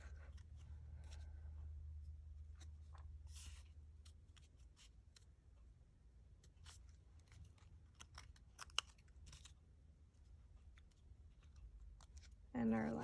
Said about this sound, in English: we're going to cut off every other red petal